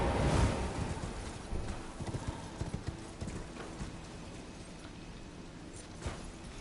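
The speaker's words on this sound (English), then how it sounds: "Hope I can get on the horse in time." Horse galloping in the video game Elden Ring: rapid, continuous hoofbeats clopping over wind-like background noise, fairly close and steady throughout.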